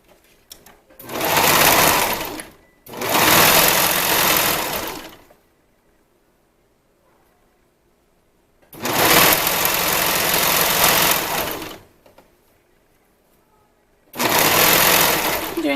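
A sewing machine stitching swimwear fabric runs in three loud, close bursts of steady mechanical whirring, each a few seconds long, separated by near-silent pauses.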